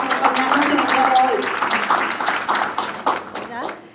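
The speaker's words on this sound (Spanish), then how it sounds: "Un aplauso para ella." Brief scattered clapping from a small audience at a Lawrence Hispanic Week committee gathering, greeting a Massachusetts State House representative, mixed with a talking voice and fading out within a few seconds.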